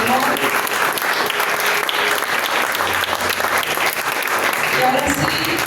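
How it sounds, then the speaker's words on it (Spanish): Loud, sustained applause from a church congregation praising the Lord, dense clapping filling the whole stretch with voices mixed in. "Denle un fuerte aplauso al Señor."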